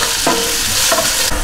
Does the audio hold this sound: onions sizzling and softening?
yes